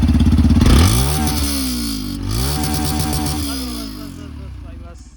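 A new Yamaha FZ motorcycle idles and revs with a fairly light exhaust note, loudest at the start and then settling into a steady running drone that fades toward the end.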